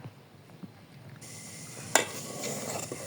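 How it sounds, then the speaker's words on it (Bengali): Milk thickened with condensed milk is stirred in a pot on the stove, a soft scraping swirl with a faint simmer that swells into a brighter sizzle, punctuated by one sharp clink of the spoon against the pot. "সুন্দর করে নেড়ে নিব, ঘন করে নিব আর একটু।"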